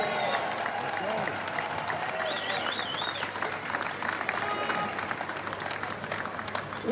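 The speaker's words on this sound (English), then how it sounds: "Give yourselves a round of applause." Outdoor rally crowd at a British unity march applauding and cheering in a steady, dense wash, with shouts and a whistle rising through it and voices mixed in throughout.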